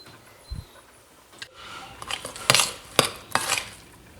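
A spoon working ground almonds into a Bakewell tart mixture in a bowl, with a few soft scrapes followed by sharper clinks and knocks against the bowl.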